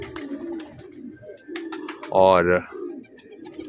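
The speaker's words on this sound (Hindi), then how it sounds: "इस बीच मैंने कबूतर निकाल दिए ये रहे छत में" Pigeons on a rooftop give a loud, close cooing call in the middle, with quieter bird sounds and someone talking around it.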